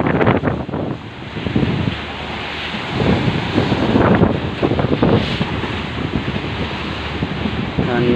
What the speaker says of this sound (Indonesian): Cuacanya di sekitaran Pelabuhan Merak lumayan ombaknya sedang tinggi.